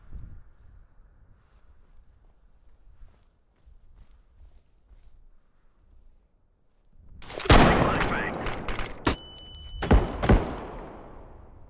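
Shotgun blasts in the shooter Escape from Tarkov, a quiet stretch of faint footsteps and rustling, then several sharp loud shots in quick succession with ringing tails.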